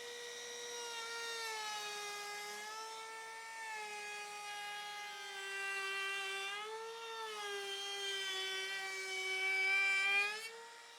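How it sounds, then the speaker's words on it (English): A router shaping a bead molding profile into a wood board whines with a loud, steady tone whose pitch dips and rises as the cut loads and eases, close by and with no voices. "After using the router to cut the bead molding shape"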